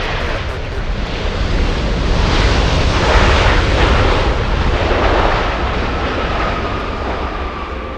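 A jet airliner takes off from runway 24 left at LAX, its engines a broad, steady roar that swells to a peak in the middle of the clip and then eases slightly as it continues.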